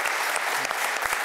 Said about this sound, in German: Der Dank geht weiter an unser Saalpublikum, was Sie gerade im Hintergrund klatschen hören